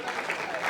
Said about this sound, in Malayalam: ഒരു ഡബിൾ സ്ട്രോങ് കൈയടി ഉണ്ടോ?